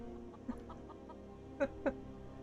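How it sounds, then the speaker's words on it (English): Chickens in Skyrim cluck a few times, with one soft cluck and then two louder ones close together, over a quiet, steady hum. "Chickens, ravens and rabbits."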